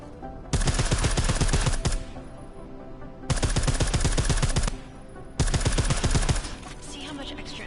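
Silenced gunfire from the video game Deus Ex: Mankind Divided, three bursts of rapid, evenly spaced shots, each lasting about a second and a half, separated by short pauses.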